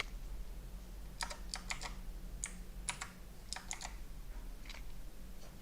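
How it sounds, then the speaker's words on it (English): Typing on a computer keyboard while entering Japanese vocabulary into a word list, heard as several quick bursts of key clicks spread across the clip over a steady low background hum, with no talking. "So we're gonna type that in."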